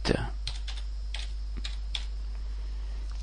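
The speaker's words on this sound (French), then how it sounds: "puis nous allons taper Regedit" Someone types Regedit on a computer keyboard. A few quick, crisp key clicks land close and moderately loud over a low steady hum, followed by sparser taps.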